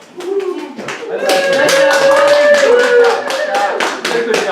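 A small group claps together at a portrait sitting, a fairly close, lively run of hand claps that builds and carries steadily with some uneven taps, and voices can be heard faintly underneath.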